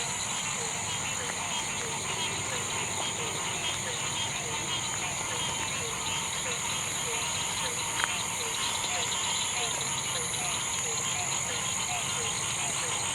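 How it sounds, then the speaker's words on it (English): Crickets and frogs, bullfrog among them, calling at night in the woods on a camping trip, a steady dense chorus of chirps and repeated croaks throughout, with voices faintly mixed in. "You hear the like crickets and stuff and frogs, right?"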